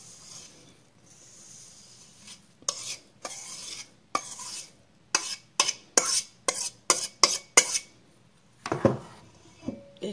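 A spoon stirs praline mixture into melted chocolate in a bowl for a no-bake creamy praline chocolate tart, producing a quick run of sharp, close scraping clicks against the bowl after a quiet start.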